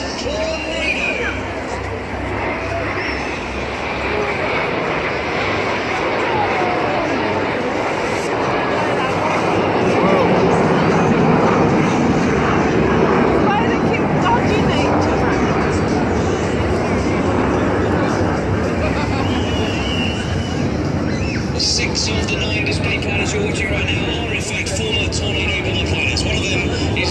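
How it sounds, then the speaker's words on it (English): An RAF Tornado jet flies past at a Weymouth air show, a broad, loud roar that swells toward the middle and lingers, heard under a public-address commentator and crowd noise. "Now celebrating the Tornado Bomb Force, and from the right, this is Tornado."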